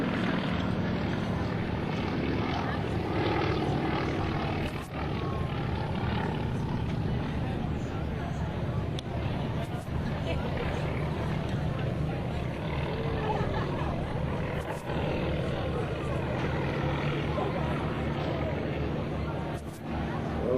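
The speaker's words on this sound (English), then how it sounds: "Nice little down from the right down low, and a great opportunity to photograph that Yak 18." A Yak 18 aircraft makes a low pass at an airshow, its propeller engine giving a continuous droning roar. The sound stays loud and steady throughout, with a voice speaking over it.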